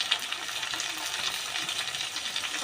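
Spices, turmeric and chili powder frying and being stirred with potatoes, vegetable stems and small puti fish in a pan. A steady, close hiss of sizzling oil is broken by faint scraping stirs, with no talking.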